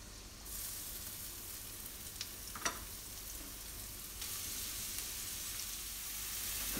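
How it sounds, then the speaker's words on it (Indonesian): Steady sizzling and crackling of chopped spices sautéing in leftover tofu-frying oil in a wok, with a brief clatter of a utensil against the pan midway. "Tumis bumbu yang sudah dicincang."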